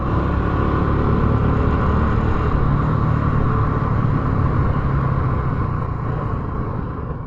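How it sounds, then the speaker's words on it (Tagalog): Dense road traffic of cars and motorcycles during a political caravan rumbles steadily and close by, a continuous wash of engine noise with no clear breaks. "Oh, grabe traffic oh."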